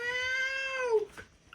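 A cat named Stretchy howls at a door: one drawn-out, wavering cry that holds steady, then drops in pitch and breaks off. It is close and clear, with no other sound around it.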